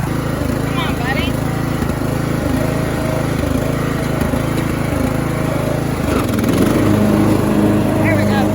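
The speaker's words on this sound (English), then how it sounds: "We're going to mow." A tractor engine drones steadily and loudly while mowing a hay field, a constant near rumble with a slight shift in pitch partway through and no break.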